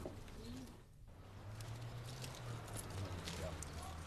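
Racing pigeons coo softly at a club, low repeated murmuring calls under a quiet room background, with a brief dip near the start.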